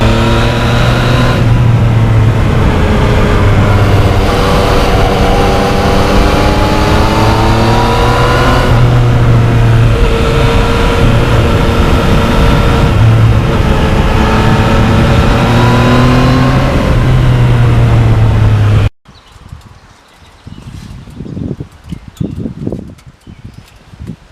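A 2020 Yamaha MT-09 motorcycle engine drones loud and steady while riding on a Michelin front tire, pitch rising and falling through gear changes for about nineteen seconds, then cutting abruptly to quieter rustling wind.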